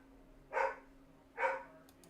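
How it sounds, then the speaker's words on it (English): Two separate dog barks sound about a second apart, moderately distant and fairly faint over a quiet background hum. "And there's the dog barking"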